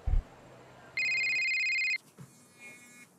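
A telephone rings once, a single electronic ring tone lasting about a second, clear and close, followed by faint room noise.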